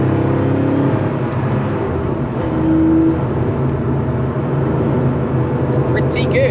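A 1986 Porsche 911 3.2 with a normally aspirated engine and lightweight flywheel runs with a loud, steady drone that swells briefly in the middle, heard close throughout.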